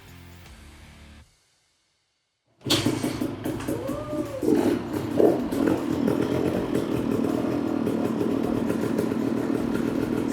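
Freshly reassembled motorcycle kick-started after a pause, its engine catching and running loud and steady with a rough, rattling idle close by.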